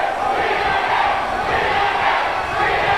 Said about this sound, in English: Crowd chanting TNA because this is total nonstop action